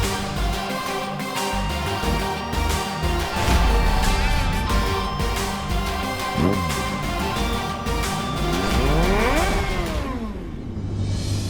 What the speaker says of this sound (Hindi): ये तो दोस्त की बाइक की ही आवाज है।